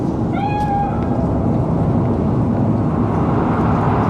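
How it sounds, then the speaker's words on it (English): A single short cat meow in Cyberpunk 2077 rises near the start over a loud, unbroken low rumble of background ambience that continues alone afterward. "It's just a cat"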